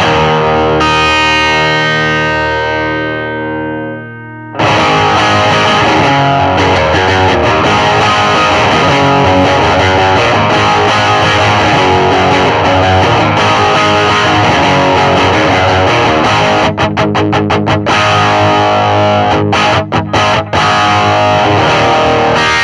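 A Stratocaster electric guitar plays through a Marshall-style Plexi overdrive pedal with the boost switched on: a sustained chord fades out, then loud, thick, continuous distorted riffing follows, played alone.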